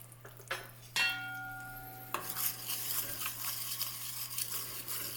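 A utensil clanks against a braiser with a ringing metallic tone, then sugar is stirred into hot coconut oil with a soft, continuous scraping and gentle sizzle, close by and without speech.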